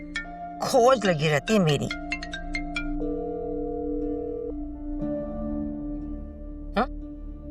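A phone rings in a room for an incoming call, a steady repeating ringtone with sustained tones, running under and between a woman's speech near the start.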